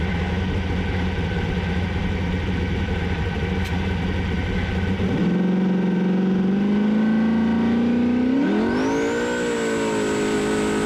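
A twin-turbo jet boat engine rumbles at a rough idle, then drops to a smoother tone and surges upward into a loud, rising roar with a high turbo whine building near the end.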